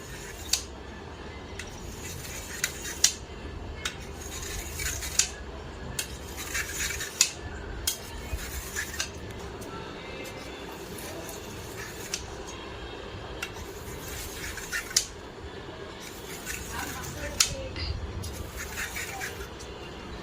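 Knife or spoon scraping and cutting around the edges of a set agar (china grass) malai dessert in a glass dish, a series of light clinks and scrapes repeating every second or two under faint background noise.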